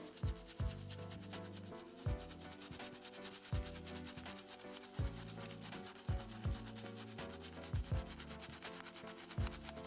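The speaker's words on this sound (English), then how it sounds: "I'll put more soap and I'll just rub it on my palm" A soapy makeup brush scrubs against a palm in steady, rhythmic rubbing strokes, each with a soft swishing rasp, close up and continuous.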